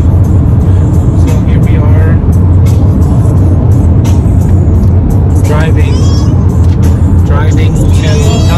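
A car drives along a road in California, a loud steady rumble of engine and road noise up close, with brief passing swishes from other traffic and a voice talking over it.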